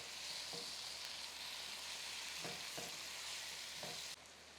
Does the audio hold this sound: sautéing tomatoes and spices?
yes